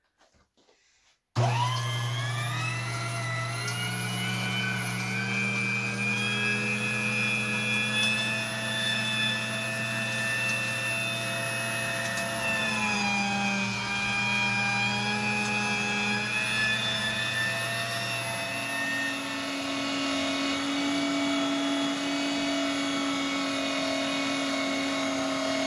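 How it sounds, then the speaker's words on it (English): Electric meat grinder churning a beaver and bacon burger mixture, a steady loud motor whine that starts abruptly and runs continuously with shifting pitch as the meat feeds through. "And now, we grind."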